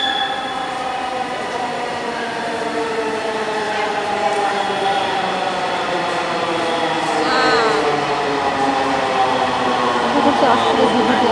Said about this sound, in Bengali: এই ট্রেনটি চলে এসেছে।